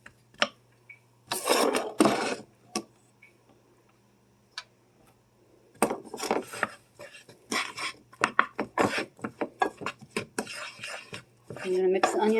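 Onions are stirred in a pan over the heat to caramelize, a utensil scraping and clinking against the pan in irregular bursts separated by quiet gaps, close and clear.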